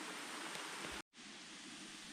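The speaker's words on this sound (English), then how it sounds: "It's sprinkling again." Light rain sprinkles outdoors near Whittleton Arch, a soft, steady hiss of drops that cuts out briefly before continuing evenly.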